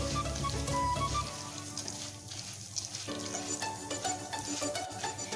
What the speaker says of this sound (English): now I'll add my urad dal and again roast it for a few seconds